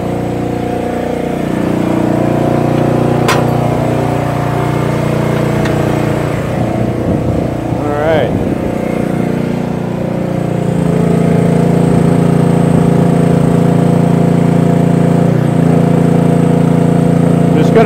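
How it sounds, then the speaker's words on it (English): Towable forklift running loud and close as it spreads its forks wide and moves, a steady engine drone with shifting mechanical whine and a rising hydraulic tone near the end. "I'm gonna spread the forks out as far as they can go."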